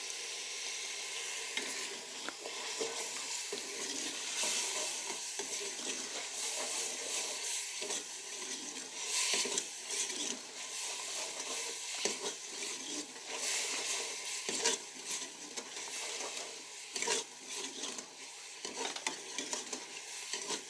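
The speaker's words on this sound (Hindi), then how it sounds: "थोड़ा सा पानी लगाएंगे मसालों को मिक्स करने के लिए।" Spices sizzle in a hot pan with a little water while a spoon stirs and scrapes repeatedly, a continuous crackling hiss with irregular clinks, no talking.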